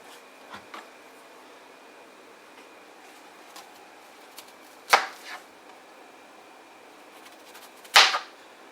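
A knife chops through an onion on a cutting board while falafel is being made, with two sharp, close cuts several seconds apart and faint scattered taps in between over a quiet room.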